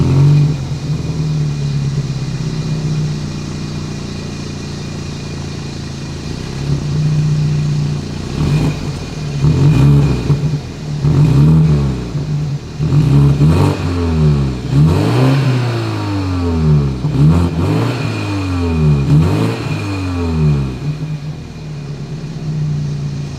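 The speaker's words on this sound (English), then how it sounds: "As always, here is that exhaust clip." A 2021 BMW X3 compact sport SUV revs its exhaust close by, a steady idle breaking into a run of sharp, rising and falling revs in the second half, loud and alone.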